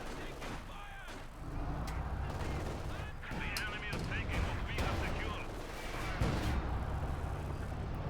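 Gunfire and artillery blasts in the World War II strategy game Company of Heroes 2, with repeated crackling shots and booming impacts over a dense battle din. A commentator talks throughout.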